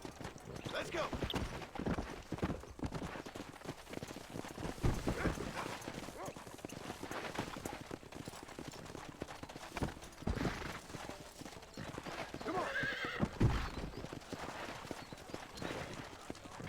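Horse hooves clip-clop at a steady, uneven trot in the Red Dead Redemption video game, running under a voice for most of the stretch, with a brief whinny near the end.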